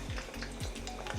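Butter melting in a pot, a short, close, steady sizzle with faint crackling pops, heard alone.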